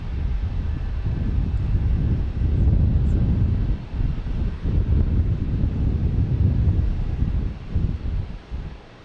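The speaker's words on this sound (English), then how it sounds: "Next taking off is JetBlue," JetBlue Airbus A220 jet taking off at Boston Logan, a steady low rumbling engine roar with wind buffeting that holds loud across the whole stretch, dipping briefly midway and easing at the end.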